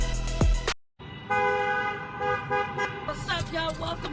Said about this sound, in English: And we still in traffic.